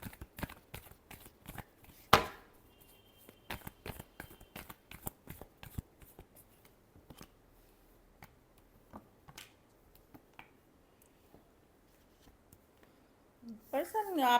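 Tarot cards are shuffled by hand in light, rapid riffling and tapping clicks, close and soft, with a voice speaking at times and the shuffling trailing off near the end.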